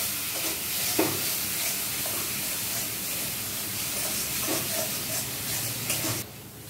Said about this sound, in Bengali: এবার নুন চিনিটা মিশিয়ে পুরো মশলাটা ভালোভাবে কষাবো